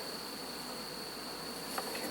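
Honey bees buzz around an opened hive during fall honey extraction, a faint, steady drone with a thin sustained whine throughout, quiet and close with no talk.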